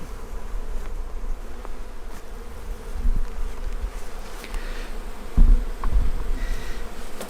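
Honey bees hum around an open beehive during spring hive work, a steady close drone with individual bees passing near and a few soft bumps and knocks.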